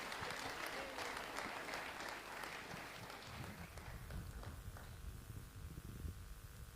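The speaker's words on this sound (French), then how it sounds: "Encore une fois, applaudissez pour moi s'il vous plaît." Audience applause at a personal development symposium held by a humanitarian foundation, a faint wash of clapping for about three seconds that thins out and dies away, leaving low rumble and scattered noise.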